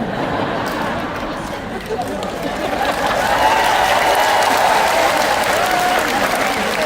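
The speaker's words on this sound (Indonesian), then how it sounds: "Para istri tepuk tangan maksudnya apa?" Dense, continuous applause from wives in the audience at a talk, broad and loud, building slightly and holding steady with a murmur of crowd noise beneath.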